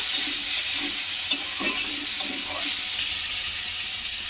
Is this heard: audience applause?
no